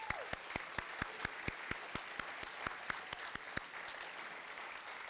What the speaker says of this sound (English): let's give all of our student performers and their teachers another round of applause